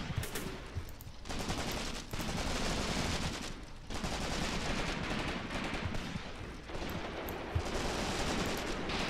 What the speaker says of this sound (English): We got some machine gun fire going down on the enemy